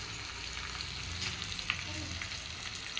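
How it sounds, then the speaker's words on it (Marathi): Dried red chillies fry in hot oil for a tempering with cumin, a loud dense continuous sizzle with a few small crackles, close and without talking. "सुकलेली लाल मिरची छान फ्राय करून घ्यायची तडक्याला"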